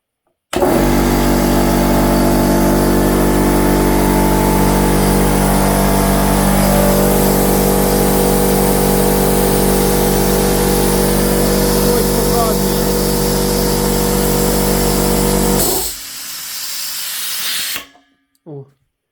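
An Apro air compressor runs at its first start, making a loud, steady droning hum with hiss that holds for about fifteen seconds before winding down and cutting off.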